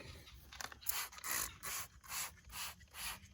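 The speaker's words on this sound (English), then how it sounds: "Now I'm gonna spray on this real quick." Rhythmic hissing spray bursts repeat about every half second, a trigger sprayer pumped steadily at close range, spraying cleaning spray on a Tesla Model Y.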